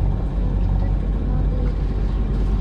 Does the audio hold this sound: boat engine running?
yes